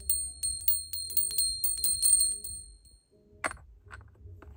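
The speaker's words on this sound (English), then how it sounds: "I also have a bell here as well that I was ringing prior to it." A small ritual bell rung during a candlelit ceremony: a quick run of bright, ringing chimes that sustain and fade over a few seconds, then a single clear strike later, close and fairly loud with no talking.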